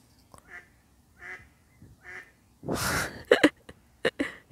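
A duck quacks several times in short nasal bursts, close and fairly loud, with a brief rushing noise in the middle of the calls.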